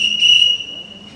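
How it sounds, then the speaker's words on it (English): A flute-like whistle sounds one clear, steady high tone for about half a second, close and loud, then cuts off to a faint lingering ring in a quiet music classroom. "So this whistle is actually like a flute"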